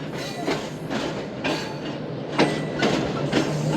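Shalimar Express passenger train running on its first trip on 14 August, a steady rumble with periodic rhythmic clacks of wheels over rail joints, moderately close and without talk.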